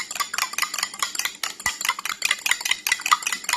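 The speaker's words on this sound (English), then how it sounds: "I'm just going to beat these with a fork." Fork beating eggs in a bowl for waffle batter, a fast, steady run of close, bright clicking strokes with no voices.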